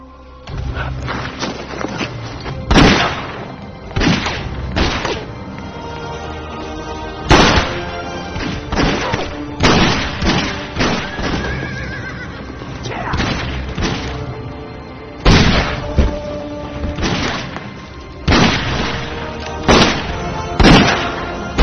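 A film shootout erupts with repeated loud gunfire and heavy explosion booms, dense and continuous, with irregular bursts of impacts over a busy soundtrack.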